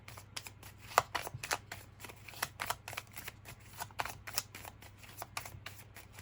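A deck of tarot cards is shuffled by hand, producing a run of quick, crisp riffling flicks and soft slaps in an irregular rhythm, close and fairly quiet with no talking.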